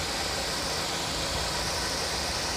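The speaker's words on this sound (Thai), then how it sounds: "เครื่องยนต์สตาร์ทอยู่" A 2004 Toyota Altis 1.6 automatic sedan idling in its engine bay, a steady broadband hum with hiss and no change in level, close and alone without talk.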